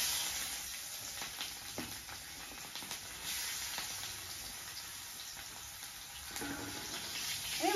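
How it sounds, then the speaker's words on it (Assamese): Chopped onions dropped into hot, bubbling oil for a magur fish curry, giving a steady, close sizzle and hiss of frying throughout with faint stirring clicks and no talking. "এইফালে এতিয়া তেলটো ফুটকেই আছে পিঁয়াজখিনি দি দিওঁ"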